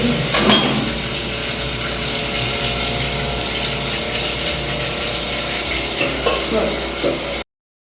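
Food frying in hot oil, with sweet-making ingredients for a wedding cooked nearby, gives a steady loud sizzle throughout, with some stirring and clatter near the start and a few knocks later.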